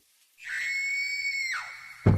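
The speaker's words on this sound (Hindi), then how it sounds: "भयानक चीख भी सुनाई दी" A woman's terrified, sustained high-pitched scream from a horror story, loud and close, cutting off sharply and followed by a low thud.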